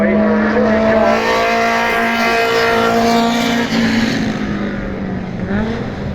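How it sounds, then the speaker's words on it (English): Super Touring race cars roaring past at Paddock Hill Bend, Brands Hatch, a loud sustained engine howl close by with shifting pitch as cars blast through, several overlapping. "So for just a few laps, enjoy touring cars."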